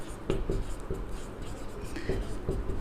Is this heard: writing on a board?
yes